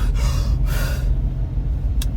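A voice imitates big breaths blowing on a small fire, giving a couple of forceful breathy whooshes in quick succession close to the microphone over a low rumble.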